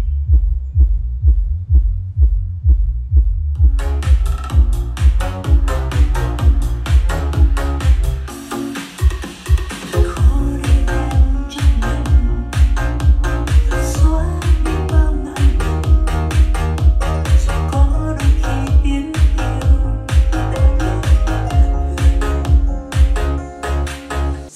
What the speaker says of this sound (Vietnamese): Quý vị thấy tiếng súp không ạ? Đây là tiếng súp không nhé.